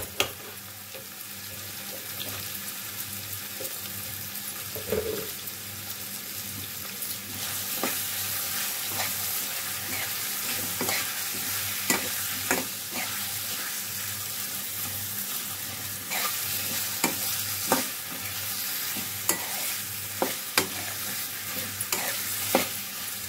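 Ginger garlic paste sizzles in a pan for brinjal curry, a constant frying hiss broken by repeated stirring scrapes and taps of a spoon, close up, with no one talking.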